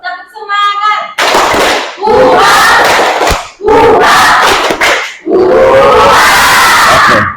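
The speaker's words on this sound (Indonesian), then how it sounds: "Kita coba sama-sama tepuk semangat." A classroom group performs a clapping and chanting cheer called tepuk semangat, with a leader's short call followed by loud bursts of rhythmic clapping and shouted chanting in several separated waves.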